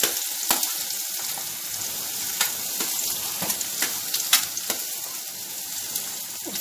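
Chopped onions dropped into hot oil with heated cumin seeds: a steady close hiss of frying dotted with sharp pops and crackles, no voices.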